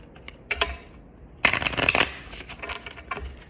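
A deck of tarot cards is shuffled by hand in a few quick bursts of riffling and sliding, close and crisp, with short pauses between them.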